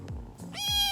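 A small kitten gives a short, high, clear meow near the end, preceded by faint soft squeaks in a quiet room.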